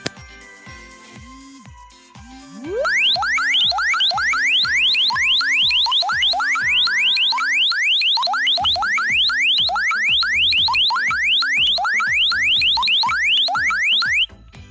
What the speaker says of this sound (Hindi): जैसे ही मैंने अपने मोबाइल फ़ोन को चार्जिंग से उतारा तो अलार्म बजना स्टार्ट हो गया